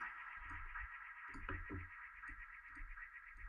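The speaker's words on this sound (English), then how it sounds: "my idea was to create a real sounding tape delay with this plugin" Faint notes repeat in decaying, slightly warbly echoes from a tape delay plugin over a steady background hiss, with no voices.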